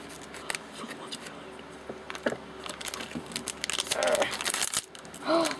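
Small scissors snip and crinkle open a plastic toy package, soft scattered clicks and rustles close by with louder crinkling bursts near the end.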